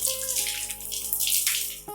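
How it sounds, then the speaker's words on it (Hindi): Water running steadily from a newly fitted tap in a bathroom, a continuous close splashing hiss with no talking over it. "पानी भी आ रहा है।"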